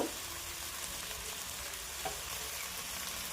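Chopped okra fries in a pan while a spoon stirs it, a soft constant sizzle with a few scraping knocks, heard alone at low level.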